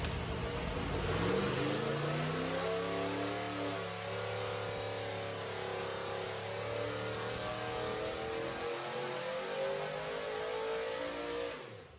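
A 1960 Ford Galaxie Starliner with a 352 cubic inch FE V8 revs up loudly, the engine note rising and then holding a steady high drone before cutting off.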